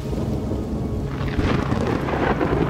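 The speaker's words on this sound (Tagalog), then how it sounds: "Muling kumidlat ng napakaliwanag at kumulog ng napakalakas." Loud thunderclap in a thunderstorm with steady rain, a deep rolling rumble that swells partway through and stays heavy to the end.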